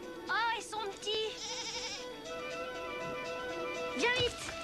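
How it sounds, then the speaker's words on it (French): Young goat kids bleat in repeated wavering cries, some close and loud, others overlapping, with people talking throughout in French, set outdoors on an island beach. "C'est une chèvre!"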